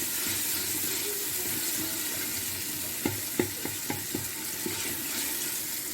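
Chana dal masala with turmeric stirred and fried in a pan: a steady sizzle throughout, with a run of distinct spoon scrapes and taps against the pan in the second half.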